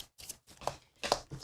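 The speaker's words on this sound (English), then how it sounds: "Okay, so shuffle those really good." Separate riffling bursts of a deck of cards being shuffled for the board game Aeon's End: Legacy of Gravehold, close and quiet, with short silent gaps between the bursts.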